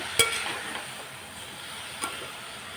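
Tomatoes frying in a pan with beans give a faint, steady, even sizzle, broken by two light clicks of a utensil against the pan.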